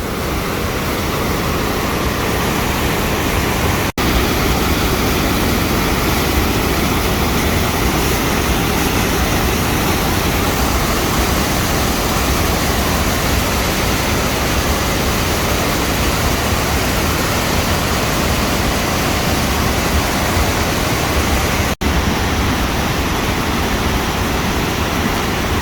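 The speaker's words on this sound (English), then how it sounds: "this is Blue Hole Falls. It doesn't even look like a waterfall at the moment." A flooded waterfall, Blue Hole Falls at Old Stone Fort State Park in Tennessee, gives a steady, loud, unbroken roar of rushing water throughout, with no speech.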